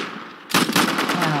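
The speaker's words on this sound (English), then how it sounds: "Pistol." Rapid pistol fire in the Roblox game Arsenal, a burst of several quick, loud, closely spaced shots that starts abruptly and keeps going with a reverberant tail.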